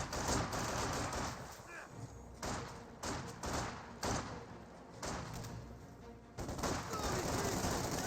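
Infantry gunfire in the strategy game Company of Heroes 2, with dense bursts of rifle and machine gun fire and thumps of explosions over several seconds as a commentator talks.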